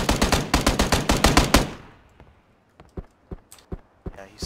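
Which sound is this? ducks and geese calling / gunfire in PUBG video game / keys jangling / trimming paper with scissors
gunfire in PUBG video game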